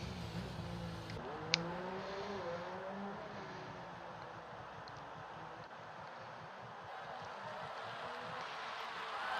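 An F1 car in the F1 2019 video game on the Brazil GP circuit slowing into a wet pit lane, a faint engine tone dropping in pitch over a steady low rumble of track ambience.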